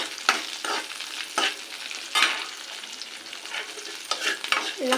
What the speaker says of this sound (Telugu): ఇలా బాగా ఫ్రై చేసుకోవాలి. పచ్చిమిర్చి బాగా వేగితేనే టేస్ట్ కూడా బాగుంటుంది.